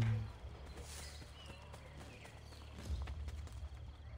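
A horse walks along in Assassin's Creed Brotherhood, its hooves giving a quiet, steady clip-clop of separate footfalls over faint ambient game sound.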